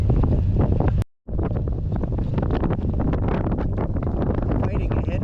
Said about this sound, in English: Fighting a headwind today, you can see by those flags.